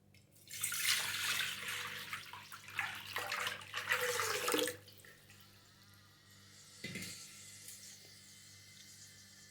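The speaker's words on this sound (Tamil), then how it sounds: "இப்போ இந்த சட்டி முழுகிற அளவுக்கு நம்ம தண்ணி ஊற்ற போகிறோங்க" Water is poured into a new clay pot until the pot is submerged, making a loud splashing gush for a few seconds, then a quieter trickle and faint bubbling as it settles.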